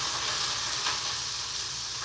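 Drained potatoes sizzle in hot oil on an induction cooktop, a steady, bright frying hiss that holds evenly from start to finish.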